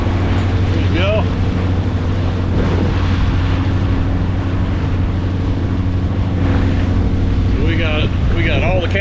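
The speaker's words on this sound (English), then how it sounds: "Motor's shut down and we are sailing right now" Sailboat under full sail with the motor shut down, heading toward Cat Harbor, with steady wind rush and water wash all through, a low constant hum, and a few brief voices in the background.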